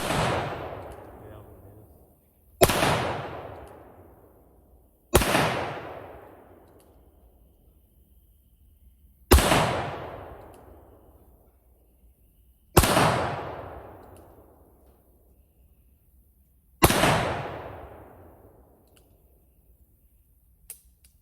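Six loud gunshots from a Colt Python revolver fired outdoors, evenly spaced a few seconds apart, each a sharp crack followed by a long echoing decay, with no talking between shots.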